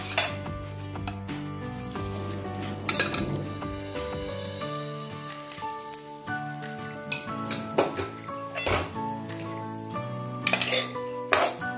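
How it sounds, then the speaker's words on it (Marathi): Fine semolina roasting in ghee in a pan for Punjabi panjiri, a soft sizzle broken by repeated spoon scrapes and metallic clinks against the pan, near and intermittent. "चला तर मग इथे आपला रवासुद्धा व्यवस्थित असा खरपूस असा भाजून झाला."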